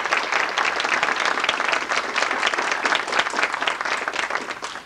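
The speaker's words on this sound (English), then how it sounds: "please join me in a round of applause for their many contributions to the life of this university" An audience in a university lecture hall applauds honorees in 1991, with dense, continuous clapping that stays loud and even throughout before easing off at the end.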